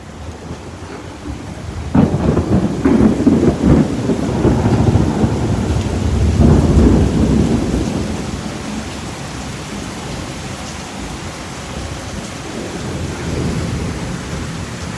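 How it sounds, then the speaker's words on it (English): A Houston thunderstorm with heavy rain, a loud rumble of thunder breaking out and rolling on for several seconds over a steady hiss of downpour that continues to the end. "it is getting stronger and the rain is picking up"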